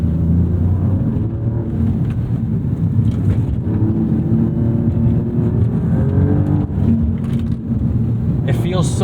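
2019 Alfa Romeo Giulia Quadrifoglio running in race mode, a loud sustained engine drone with rises in pitch heard from inside the cabin, with someone talking over it.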